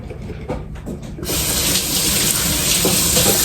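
A kitchen tap turns on and water gushes loudly into a sink for handwashing, starting after a second of faint handling noises and then running in a close, continuous rush.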